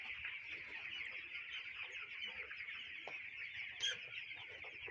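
Sick chickens cluck and murmur softly in a small poultry house, a faint, continuous chorus of low calls with one slightly louder squawk near the end.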